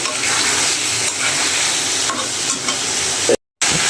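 Water is poured into a pan of sautéed curry cooked in soybean oil, producing a loud, steady close hiss and bubbling that cuts out for a moment near the end before resuming.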